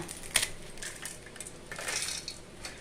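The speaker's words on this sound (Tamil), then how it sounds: "நான் முறுக்கை ஒன்று உடச்சி காட்டுறேன் பாருங்க" A crisp homemade murukku snack snapped apart by hand, giving one sharp crack followed by a few lighter brittle crunches and crumbles, close and fairly quiet.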